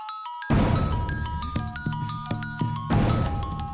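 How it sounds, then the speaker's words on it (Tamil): A mobile phone rings with a melodic electronic ringtone, a bright repeating phrase of stepped tones that starts abruptly and plays loud and clear, with no voices over it. "அம்மாடி, அம்மாடி, போன் ரிங் ஆகுது, எடுமா, எடுத்து பேசு"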